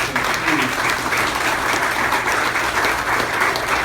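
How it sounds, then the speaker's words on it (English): Sustained audience applause fills a room at a charity check presentation, a dense, even wash of many hands clapping at steady loudness throughout, with no break or talk rising above it. "Give that a round of applause, please."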